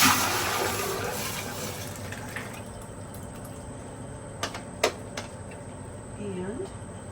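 Red chili salsa is poured into a pan of shimmering hot oil, setting off a loud sizzling burst that fades to a softer steady hiss, with a few clinks of a utensil afterward.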